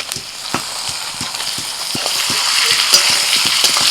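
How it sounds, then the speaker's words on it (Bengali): Steady sizzling and crackling of chicken frying with onions in a pan, with occasional soft stirring knocks, close up and fairly loud. "পেঁয়াজের সাথে চিকেনটাকে বেশ কিছুক্ষণ ধরে ভাজতে থাকবে"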